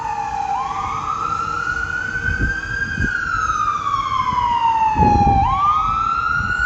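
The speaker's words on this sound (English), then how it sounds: "Sorry, ambulance." An ambulance siren wails past on a street near a hospital, its long rising and falling tone sweeping loud and clear over a low traffic rumble, with no voices during the pass.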